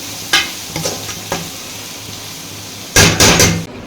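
Chili powder and salt being stirred into a simmering egg curry in a pan, with a few scraping stirs near the start and a louder burst of clattering stirring near the end over a soft sizzle.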